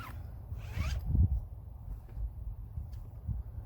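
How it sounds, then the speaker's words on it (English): A zipper pulled open along the awning of a 2019 Viking Epic Series 2108ST pop-up folding trailer, one close rasping zip followed by faint handling rustles outdoors. "First thing you got to do is unzip it."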